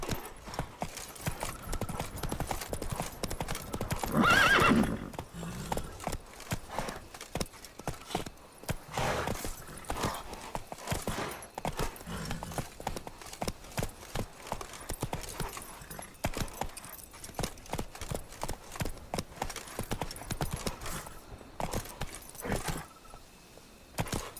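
The horse Roach galloping in The Witcher 3 video game, with steady rapid hoofbeats clip-clopping throughout, close and fairly loud, and brief tack jingles between strides.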